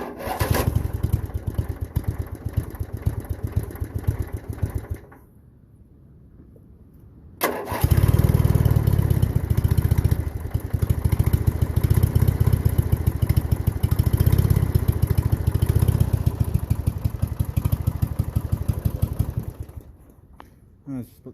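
Craftsman LTX1000 lawn tractor engine after a rebuild cranks and catches, cuts out into a brief near-silence, then restarts and runs loudly and steadily before fading near the end.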